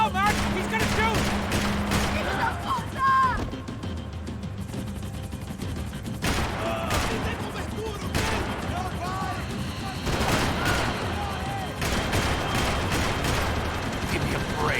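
Loud, dense gunfire from the video game Max Payne 3 continues throughout in rapid bursts and sustained volleys, with game voices shouting over the shooting.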